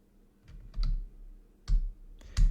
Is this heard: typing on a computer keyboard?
yes